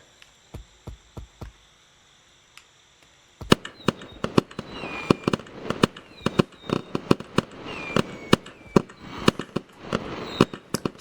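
Fireworks launched in the video game Gorilla Tag crack and pop in rapid bursts. A few sparse bangs give way to a dense, loud barrage of sharp explosions and whistling streaks, with no voices.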